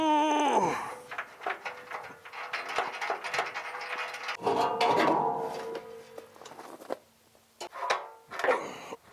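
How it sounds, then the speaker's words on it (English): Ratchet removing a bolt in a metal fabrication shop, heard as scattered close clicks and metallic scrapes with irregular pauses and some creaking. "I'm just going to opt to take that bolt out"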